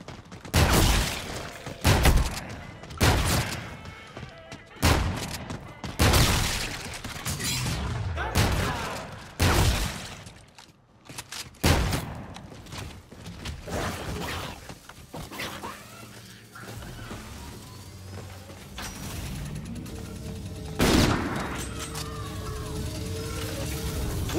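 Gunfire in the space-themed Call of Duty: Infinite Warfare Zombies mode, set in Spaceland: loud, rapid bursts of shots in quick succession with booming impacts, easing into quieter game ambience and a few scattered shots near the end.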